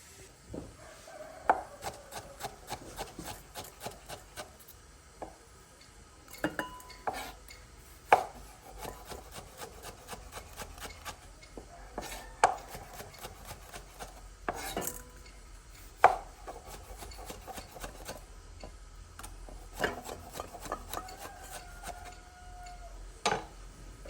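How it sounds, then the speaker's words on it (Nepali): Knife chopping fresh tomatoes on a board in a home kitchen while cooking matar masu, with irregular close sharp taps and cuts, some in quick bursts and others spaced out, and no talking. "यो चाहिँ पालेर राखेको टमाटर भयो। अब यसलाई चाहिँ म काट्छु है।"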